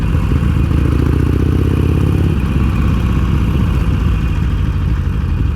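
A motorcycle engine runs continuously close by, with a steady low rumble and a rapid pulsing idle that holds for several seconds.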